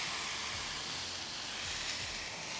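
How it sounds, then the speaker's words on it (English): Tri-tip steaks sear on a Ninja Woodfire grill with the lid open, giving a steady, broad sizzling hiss that holds evenly throughout, with no voices. "We're just doing some searing right now."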